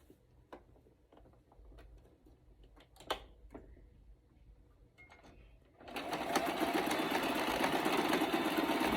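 A sewing machine stitches a shalwar seam, starting near the end and running as a steady, loud mechanical whir after a stretch of quiet handling noises.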